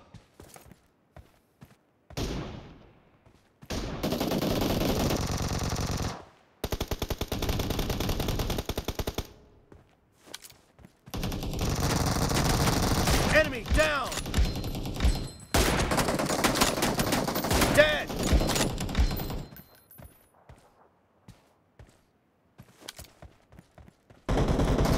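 Gunfire in the mobile game BGMI comes in repeated rapid automatic bursts separated by short silences, loud and close, with occasional single shots.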